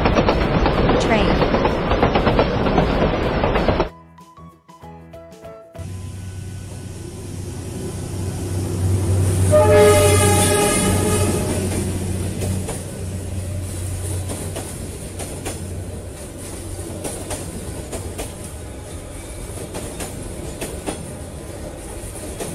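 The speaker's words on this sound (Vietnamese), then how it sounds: "Xe lửa gồm nhiều toa nối với nhau, chạy dọc theo đường ray, để vận chuyển hành khách hoặc hàng hóa." A train rolls past on its rails. A loud noisy burst cuts to near silence, then a rising rumble builds, a sustained horn blast sounds in the middle, and a steady clickety-clack rattle continues to the end.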